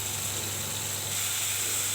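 Spice paste frying in a pan as washed dried sidol fish is added, giving a steady, even sizzle and hiss without pause, close and moderately loud.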